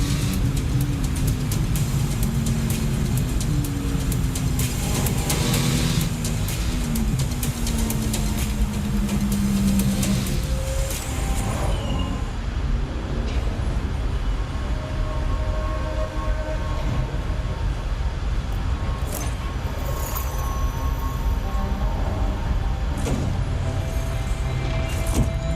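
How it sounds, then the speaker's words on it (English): Engine and road noise from a Mercedes-AMG Project One driven in a driving simulator on the Nordschleife, a continuous loud drone with shifting tones and a change in character midway, no talking. "So this is the image from the driving simulators on the Nordschleife, the Project One, being driven in the driving simulator."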